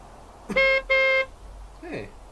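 A car horn in The Sims 3 gives two firm, evenly spaced honks, each lasting about a third of a second, followed by a faint, indistinct sound.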